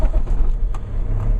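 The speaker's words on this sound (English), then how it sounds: "start the truck up." A truck engine turns over and settles into a steady, close, low diesel-like rumble that continues throughout, with no talking.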